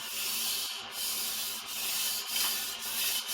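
A vintage 14-inch Ontario chef knife is worked across a fairly hard 1000 grit whetstone in steady, close rasping strokes, each pass broken by a brief pause, with no voices.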